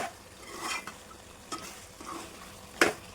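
Biryani masala for fried chicken biryani fries while being mixed, a quiet sizzle broken by several scraping stirs and a sharp clink of a spoon against the pan near the end.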